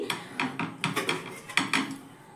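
A metal lid is lifted off a pot of steamed semolina and wheat flour, giving a quick series of close clattering knocks and scrapes before it goes quiet.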